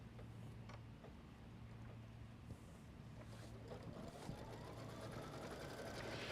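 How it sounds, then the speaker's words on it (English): Sewing machine running a continuous folding stitch through folded fabric for a quilt border block, a steady whirring hum close by with no talk. "run our next machine step"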